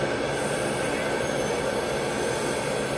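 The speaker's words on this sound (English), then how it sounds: "So make it a little bit better with the carbide ball, a little more trim it." A dental carbide ball bur trims a temporary implant bridge, producing a continuous high-pitched whirring grind at close range, steady and loud from start to finish.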